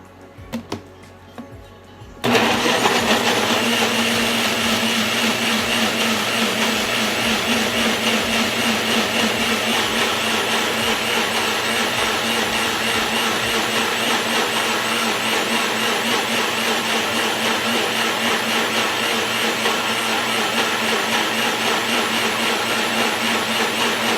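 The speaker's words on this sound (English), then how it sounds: "blender" A kitchen blender pureeing mango for cheesecake kicks on after a moment of handling noise, then whirs loudly and steadily for over twenty seconds.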